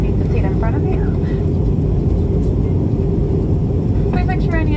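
Steady loud roar of a Frontier Airlines airliner cabin during descent, a dense unbroken engine and airflow rumble filling the space, with faint brief voices and chimes surfacing over it.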